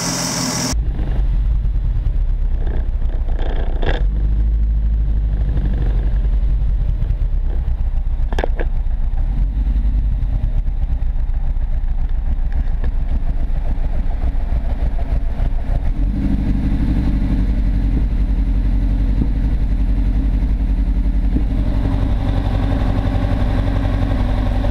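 A Mk1 Ford Fiesta XR2 engine, fitted with EFI, roars loud and close at sustained high revs, a dense continuous drone whose pitch shifts and swells partway through.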